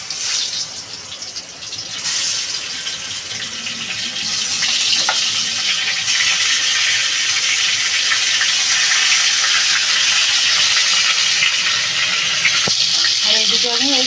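Hot oil frying in a pan for a home-style kushi, fish and potato curry, a loud, steady broadband hiss that swells after a few seconds and holds continuously, close by, with no talking.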